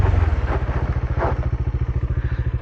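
A motorcycle with ABS rides along with its engine thrumming in a steady, fast pulsing rhythm, close and loud, with no voices.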